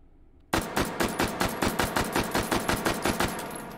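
Automatic fire from an H&K SP5K fitted with a stock and compensator in the VR shooter H3VR: a sharp onset, then a steady string of about fifteen evenly spaced, loud, close shots with no voices.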